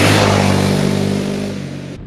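A Honda CRF Rally motorcycle hums steadily while being ridden, a loud close engine drone with a strong steady tone that eases off slightly before cutting out abruptly.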